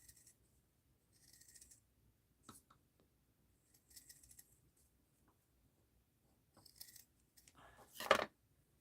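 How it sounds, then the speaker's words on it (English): Scissors snip through thick material in short, quiet bursts separated by silence, ending with a louder, crisper cut close by. "Cut it this way again."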